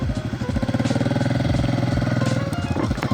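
A motorcycle engine runs steadily nearby on a mountain road trip between Georgia and Russia, its low throbbing pulse continuous throughout, with faint background noise.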